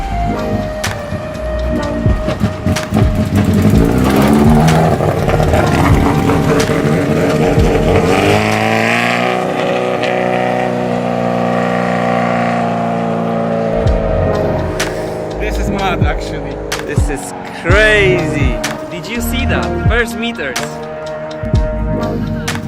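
A van fitted with a motorbike engine rolls in gear with the clutch out of action, its engine droning and rising in pitch at close range under wind and road noise, while people talk over it.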